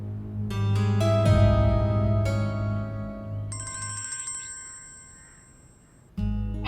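A telephone ringtone plays in a drama scene, a bright repeating melodic ring with sustained electronic tones that fades toward the end before a low thump cuts in.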